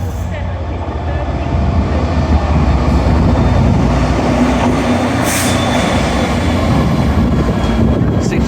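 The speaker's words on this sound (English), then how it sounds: "It will be 67007 bound for the parcel sidings. Yep, off it goes." Class 67 locomotive 67007 departing York station alone toward the parcel sidings, a steady loud diesel rumble and rolling rail noise throughout.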